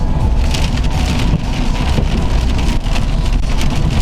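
Steady rain pours down while riding along a wet road in traffic, a loud, even wash of hiss and road rumble that continues without a break.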